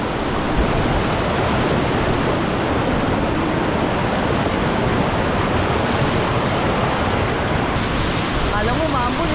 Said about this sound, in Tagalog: Dito na tayo guys sa ano, Hulugan Falls.